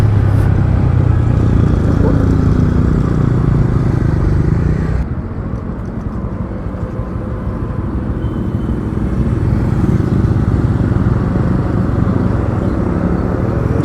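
A motorcycle rides along a peaceful road on a Sunday morning with friends, its engine rumbling steadily and loud throughout with wind noise, easing slightly partway through.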